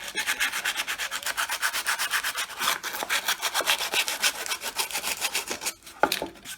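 Old, well-used sandpaper rubs back and forth over wood while a butterfly house is cleaned up before gluing, making a steady rhythmic run of close scratchy strokes that ends with a few light knocks.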